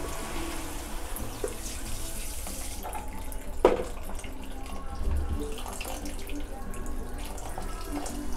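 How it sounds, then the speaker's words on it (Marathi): Water pours into a pot of mushroom and pea pulao, a continuous soft splashing flow close by with a brief clunk midway, faint and steady throughout. "आता मी ह्यामध्ये पाणी घालते."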